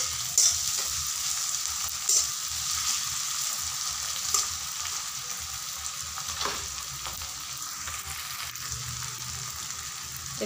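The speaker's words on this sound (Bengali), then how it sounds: "টমেটোগুলোকে আমি হালকা ভেজে নিব" Tomatoes lightly fry in a pan for an egg curry, giving a continuous soft sizzle with occasional sharp clicks and scrapes from stirring, quiet and close, with no speech.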